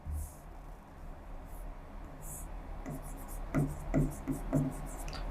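Chalk or marker strokes on a board during a current affairs lesson, faint scratching early on, then a run of short distinct taps and strokes, with a teacher's quiet voice in the background.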